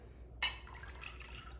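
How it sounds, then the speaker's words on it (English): Water is poured into a glass holding a clear ice cube, a brief splashy gush that settles into a soft trickle and gentle bubbling, close and quiet. "So I'm gonna add a little water to it."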